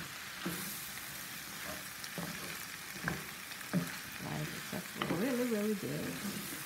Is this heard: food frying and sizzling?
yes